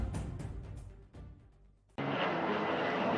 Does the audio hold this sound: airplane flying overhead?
yes